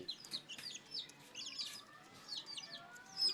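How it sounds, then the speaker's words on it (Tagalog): Malaysian Serama chickens, a trio of two hens and a cock, cluck and call close by in quick irregular bursts, with soft chirps scattered throughout. "Dalawang hen saka isang cock."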